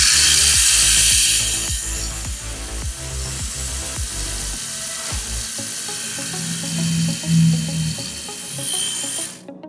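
A Mini 4WD SFM carbon chassis from Project D fitted with aftermarket KW gears whirs and clicks as it runs, with a rapid ticking mechanical rattle that slows and fades near the end.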